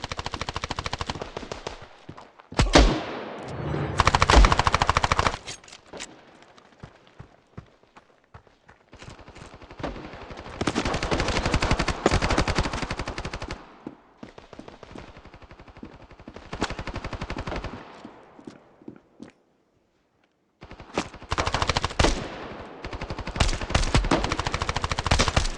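Rapid automatic machine gun fire in the online 3D shooter Standoff II, loud bursts of rattling shots separated by short pauses and a brief silence, with different weapons firing in sequence.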